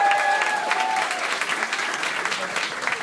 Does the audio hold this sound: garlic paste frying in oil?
no